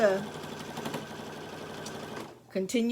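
A sewing machine runs steadily while quilting the seams of a quilt, its whirring hum continuous under talking, pausing briefly near the end as the voice resumes.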